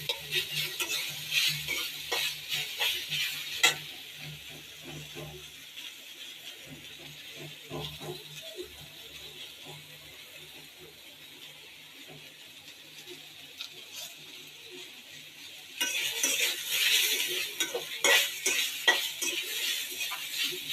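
Food frying and being stirred in a pan: scraping stirs and soft sizzling come in irregular bursts, louder at the start and again near the end, with a quieter stretch in the middle and no talking.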